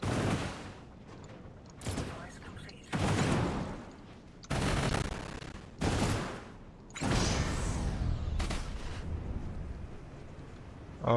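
Bursts of gunfire from combat units in the video game Industries of Titan, several loud volleys with sharp onsets separated by brief pauses, ending in a longer rolling barrage.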